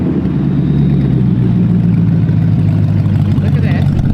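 A BMW E36 driving again with its engine running at a steady low rumble, close and continuous, while people talk over it.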